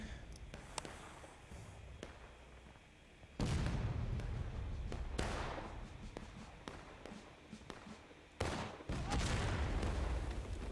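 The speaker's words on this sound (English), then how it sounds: "They're shifting around their artillery." Booming cannon and artillery fire from a Holdfast line battle, heavy blasts at intervals over a constant rumble of distant musket volleys, loud and close.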